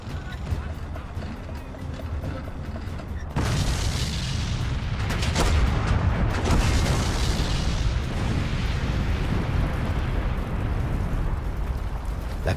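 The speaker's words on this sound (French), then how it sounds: "Sébastopol, le grand port militaire de Crimée, est écrasé par des canons géants" Deep booming blasts and rumbling explosions from giant artillery guns shelling Sevastopol roll continuously, dense and loud, with someone narrating in French over the bombardment.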